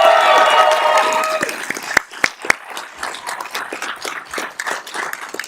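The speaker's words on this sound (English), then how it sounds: "Can we give them a round of applause as well?" Audience applause at a graduate commencement ceremony, loud dense clapping at first that fades within a couple of seconds into scattered isolated claps and room noise.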